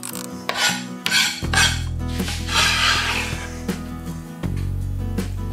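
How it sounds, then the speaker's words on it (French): A knife chops green onion on a cutting board, with close repeated knocks and scraping strokes over a low steady hum in the kitchen. "On va commencer par notre oignon vert. On va le hacher finement."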